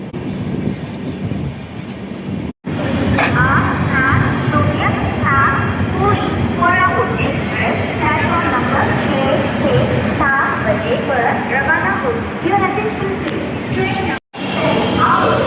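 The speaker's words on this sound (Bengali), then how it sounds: "তো আমাদের ট্রেন ঢুকছে পুরী স্টেশনে।" Shalimar-Puri Superfast Express rolls into Puri station with a loud, continuous rumble of wheels and carriages, rattling and clanking throughout at close range.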